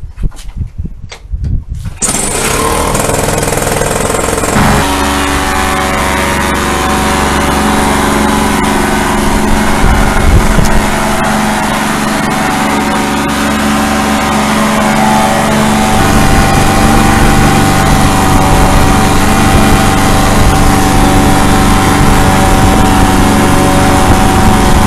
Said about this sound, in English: now we're going to do the thrust test on the Monster.